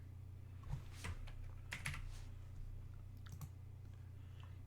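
Typing on a computer keyboard, quiet nearby keystrokes in irregular short bursts with small pauses between them, over a low steady background hum.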